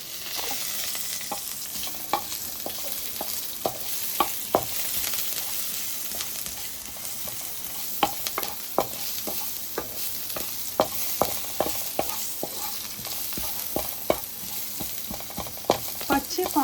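Garlic Maggi noodles sizzle in a pan while a spoon stirs them, scraping the pan in irregular, fairly close strokes over a constant frying hiss.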